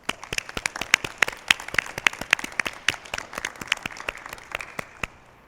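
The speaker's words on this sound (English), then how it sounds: "please join me in a round of applause to celebrate Western's newest Honorary Doctor of Science" Applause at a university fall convocation ceremony for a newly named Honorary Doctor of Science: steady crowd clapping with sharp individual claps standing out, sustained for several seconds before fading at the end.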